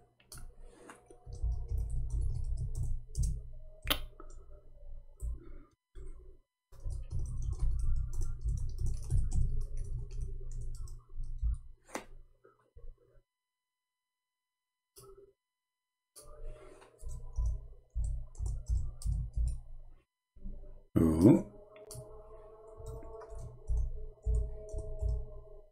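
Clicking keystrokes on a computer keyboard in uneven bursts, close and fairly soft, pausing briefly before resuming.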